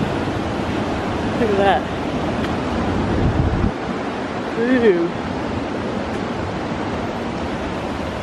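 Ocean surf breaking steadily along the Noosa coast in Australia, a constant broad wash of waves with some wind noise on the microphone, while people speak briefly and exclaim over it.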